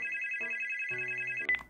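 Telephone ringing at an office mail-order customer service desk while a call is transferred, a steady electronic ring tone with shifting lower notes, fairly quiet, ending in a short clunk as the line is picked up, with no talking.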